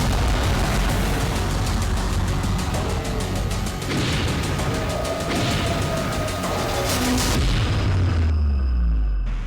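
An Iranian missile launches at night amid explosions, heard as a loud, continuous roaring rumble broken by heavy booms. The sound fills the whole stretch and ends with a falling tone as it fades.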